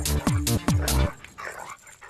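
A pet dog named Mani lets out two quick, close barks, sharp and loud, then falls quiet with faint rustling.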